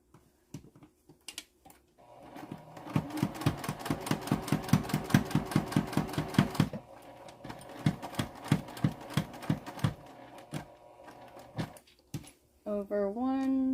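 A sewing machine stitching fabric down to a gusset, running in rapid rhythmic bursts of mechanical clatter with brief pauses between runs, close up, with a voice speaking briefly at the end.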